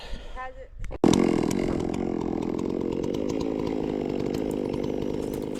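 A ported chainsaw on an Alaskan chainsaw mill revs up after a brief start and then roars steadily and loudly while slabbing a log into lumber boards in Virginia.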